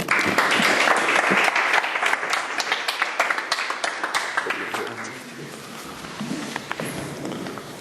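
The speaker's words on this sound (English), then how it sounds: "Round of applause." Audience applause greeting a rabbi taking the stage at an evening lecture, dense and loud at first, then thinning into scattered claps with some voices as it tapers off.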